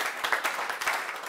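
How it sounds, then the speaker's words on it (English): Audience clapping at a campaign speech, a brief burst of scattered applause from a crowd, moderately loud with no talk over it. "that's a good place to clap"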